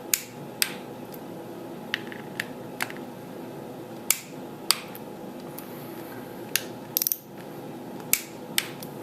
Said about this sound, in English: I'm going to torque it to 108 inch-pounds, the final torque.